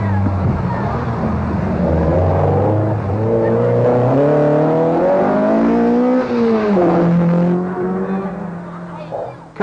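A Datsun rally car engine drones and revs hard through the gears during the 1982 Marlboro Rally near Nairobi, Kenya, loud and continuous with rising and falling pitch, under a commentator's voice.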